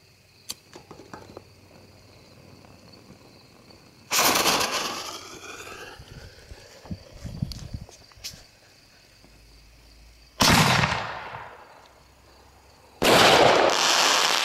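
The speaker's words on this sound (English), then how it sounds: "This is our firework." Small backyard fireworks and firecrackers going off outside at night, with three loud bursts of crackling and whooshing, each lasting a second or two, separated by quieter stretches of crickets and faint pops.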